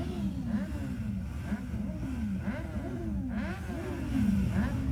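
Around sixty motorcycles ride in a funeral escort at midday, their engines droning and revving steadily in overlapping waves as they pass close by.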